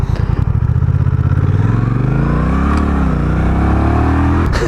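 A Honda Rebel 1100 DCT motorcycle engine rumbles loud and close as the dual-clutch transmission shifts down, the revs sweeping and settling with a steady throbbing exhaust note.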